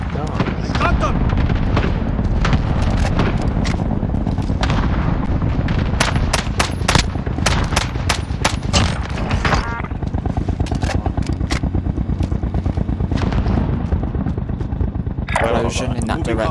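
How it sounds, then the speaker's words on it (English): Dense, continuous gunfire and booming explosions fill a Call of Duty: Warzone battle royale fight, with rapid bursts of shots and heavy blasts throughout and a loud detonation near the end. "Explosion in that direction"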